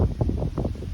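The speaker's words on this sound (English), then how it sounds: "It's lovely and windy up here." Gusty wind buffets the microphone on a summit along the Appalachian Trail in Massachusetts in low, rumbling bursts for a brief moment, close and fairly loud.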